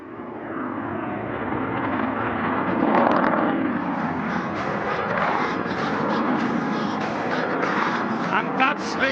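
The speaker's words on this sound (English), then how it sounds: "the aircraft is coming in for a maneuver called as tail slide." A heavy military jet at the Aero India air show roars through a tail slide manoeuvre, a broad, sustained engine rumble heard from a distance, with a commentator talking over it throughout.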